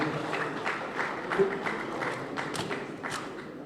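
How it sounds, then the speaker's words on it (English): An audience claps at a political party membership registration launch. Steady, moderately loud applause runs throughout, with faint voices mixed in. "I also expect the men to join in clapping for Abia"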